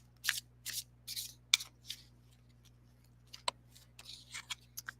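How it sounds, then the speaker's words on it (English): Mandala cards are shuffled by hand in short papery riffles and soft slides, a few quick bursts early then scattered quieter flicks, close and alone in a quiet room. "So we're shuffling these beautiful Mandela cards."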